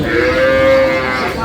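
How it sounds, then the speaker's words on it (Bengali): A cow lets out a long, steady low moo, close by and fairly loud, with faint farmyard background noise, at a cattle market with cows and calves. "গাভী বাছুর দেখছেন"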